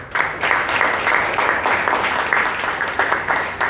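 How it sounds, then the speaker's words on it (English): Members at a Bangalore Toastmasters club meeting give a round of applause for a speaker and an evaluator: a full, lively patter of many clapping hands that holds steady throughout, near and moderately loud. "a good round of applause for the speaker as well as for the evaluator"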